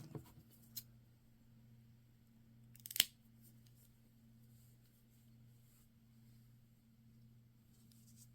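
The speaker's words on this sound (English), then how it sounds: "cut your yarn, leaving a 6-inch tail" A single crisp snip of scissors cutting through crochet yarn, close by and brief, in an otherwise quiet room with a low steady hum.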